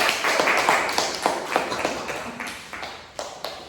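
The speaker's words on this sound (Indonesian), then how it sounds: "Berikan aplaus kepada Ibu" A small classroom group claps for the teacher in a short, uneven burst that thins out over a few seconds, with scattered individual claps standing out near the end.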